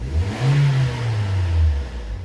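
Toyota Corolla engine with a suspected belt noise and lit injection warning light revving up, a loud steady low drone that rises and holds through the short clip with no talk.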